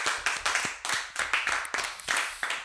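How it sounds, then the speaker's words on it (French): Applause for a guest on a French TV show, a small studio audience clapping in a steady, moderately loud rhythm with no talk over it. "ça s'applaudit quand même"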